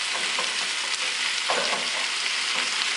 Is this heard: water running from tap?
no